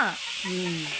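Dried vegetable fritters fry in a pan at a home religious gathering, giving a brief steady hiss and sizzle with a short tonal voice-like sound over it.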